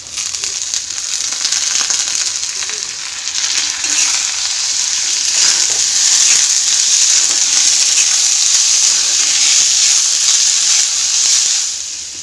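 Red masoor lentils sizzle and fry steadily in a pan over a low gas flame, a continuous bright hiss with faint stirring crackles, close and loud throughout with no talking.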